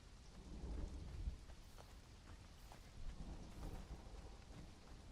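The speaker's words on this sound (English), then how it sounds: "Is that just like stormy weather, like it's supposed to be thunder?" Thunder rumbling over steady tropical rain in the video game Conan Exiles, a low rolling boom near the start and another swell later, with rain hissing throughout at a moderate distance and no voices.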